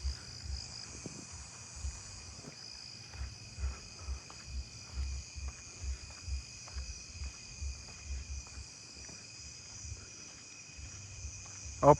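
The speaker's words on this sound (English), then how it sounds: "Southern ground crickets." Southern ground crickets chirping outdoors at night in a neighbourhood, a steady, continuous high insect buzz and trill, fairly faint, with low rumbling background noise and a few distant thumps.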